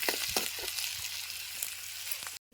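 Onions fry in hot oil with mustard seeds, a close, steady sizzle with small crackles and a few soft stirring knocks, cutting off abruptly at the end.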